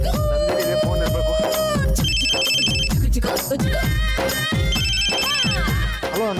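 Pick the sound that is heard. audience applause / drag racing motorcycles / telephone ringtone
telephone ringtone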